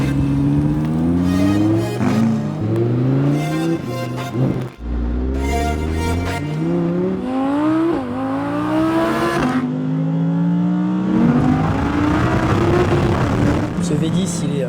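An Audi R8 V10 FSI 5.2 supercar revving hard through rising, stepping engine notes as it accelerates, heard loud and close from inside the car, with someone speaking French over the engine.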